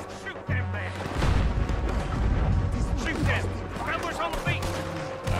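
Heavy booming cannon blasts go off repeatedly in a chaotic battle scene in the video game Red Dead Redemption 2, with shouting voices and crashing debris around them.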